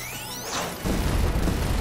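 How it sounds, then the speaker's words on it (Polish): An explosion in the platform video game Penny's Big Breakaway, a descending whistle giving way to a heavy rumbling boom that fills the remaining second, loud and alone. "Wybuchy! Wszyscy uwielbiamy wybuchy."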